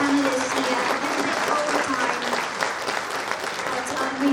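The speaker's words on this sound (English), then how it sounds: "A big round of applause, please," Audience applause for architecture panelists at a conference talk event, a full, steady round of clapping filling the room for several seconds.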